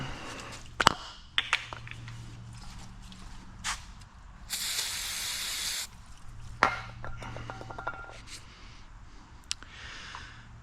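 A can of aerosol brake cleaner gives one loud, steady spray of about a second and a half in a garage where a Dodge 318 engine is being torn down, set among scattered clanks and light handling noises.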